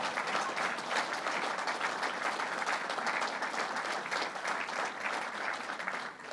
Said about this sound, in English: You can applaud for that.